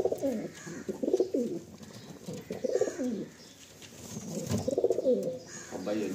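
Pigeons of Malwai, Andhra and Madrasi breeds at a loft coo in repeated low bursts after a released pair takes off, with steady cooing close by and faint chirps in between.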